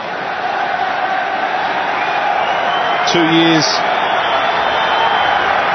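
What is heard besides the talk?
stadium crowd applauding at Allianz Stadium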